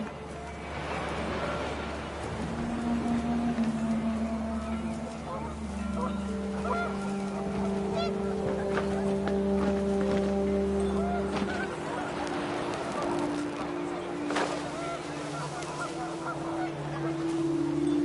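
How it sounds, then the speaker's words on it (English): Panicked geese honking in gusting wind within a video game, a steady stream of loud, overlapping honks and calls over a windy, rumbling background that lasts the whole stretch. "The wind picked up and panicked geese appeared and quickly went."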